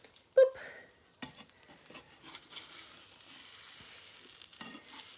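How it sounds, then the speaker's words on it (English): Eggs sizzle softly in a frying pan with a sharp clack and scraping as they are flipped, the gentle frying hiss continuing underneath at low volume. "You've got to be gentle when you're flipping your eggs, okay?"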